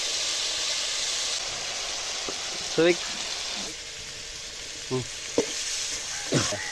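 Country chicken frying in a pan with onion, chili and curry leaves, a steady hiss with several clinks and scrapes of stirring.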